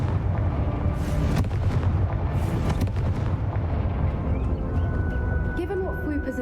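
A Confringo spell explosion in Hogwarts Legacy, a loud, sustained rumbling blast with bursts of crackling debris layered over dense game background noise.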